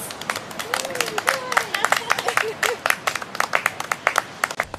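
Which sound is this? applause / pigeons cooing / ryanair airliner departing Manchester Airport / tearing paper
applause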